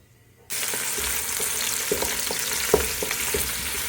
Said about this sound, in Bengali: তো খিচুড়ি রান্নার জন্য পেঁয়াজ এবং গরম মশলা আমি দিয়েছি